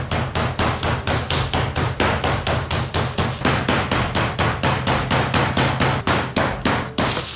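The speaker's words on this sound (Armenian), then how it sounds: "Նախ թակում ենք փայտյա մուրճով, մի փոքր թող հյուսվածքները բացվեն մսի" A wooden mallet pounds meat for chashushuli in rapid, steady thuds, roughly four blows a second, close and loud with no talk.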